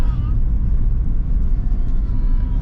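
A Toyota Veloz engine hums steadily as the car shifts into fourth gear. The low rumble stays loud and constant, heard from inside the cabin.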